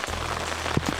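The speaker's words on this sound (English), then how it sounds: "Sitting in a little rain." Light rain falls outdoors during an archery deer hunt in Utah, a brief, soft, even patter with no talking.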